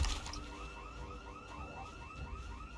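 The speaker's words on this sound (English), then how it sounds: "okay, the Spiffo alarm stopped" The Spiffo alarm in Project Zomboid sounds as a steady electronic warble, a looping rising tone that repeats evenly under a low rumble, heard from some distance with no talk.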